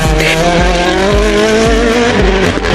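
A World Rally Championship car's 1.6-litre turbocharged hybrid engine roars loud and close, revving hard through rapid gear changes, with a rising whine and crackling exhaust throughout.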